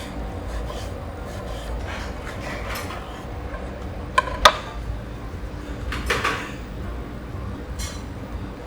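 Knife cutting through a green apple on a board, with soft rasping slices and a couple of sharp clicks of the blade striking the surface, close and fairly quiet.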